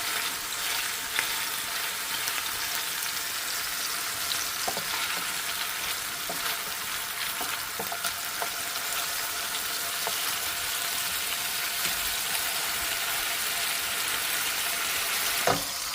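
Slider patties sizzle steadily in a pan, a continuous close frying hiss with scattered pops and faint clicks throughout, no voices.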